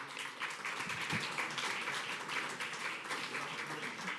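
Sustained, even applause from an evening event's audience for a string ensemble, a dense steady wash of many hands clapping, moderately distant, with no speech over it.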